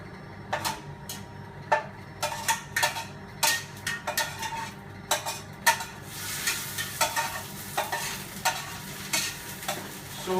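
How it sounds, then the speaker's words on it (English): Chopped onion fries in a pan for a Bengali chicken curry, with a spoon scraping and knocking the pan in irregular strokes over a soft continuous sizzle. The sound is close with no talk. "So I'm stirring the onion so that it becomes soft and brownish"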